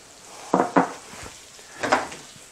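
Butter sizzling in a frying pan for keto shrimp scampi, with three short bursts of spatter and scraping that rise and fade over a quiet, faint background hiss.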